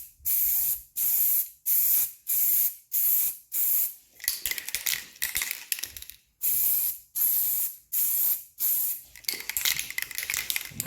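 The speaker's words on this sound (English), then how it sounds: "Start your spray outside the project, pull it through the project to one continuous motion, and just light dustings." A spray paint can lays light dusting coats onto armor in about ten short, evenly spaced hissing bursts, with brief pauses between them. Later passes come with faint clicks and rattles.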